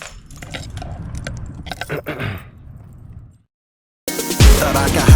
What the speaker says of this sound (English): Evidence, car keys.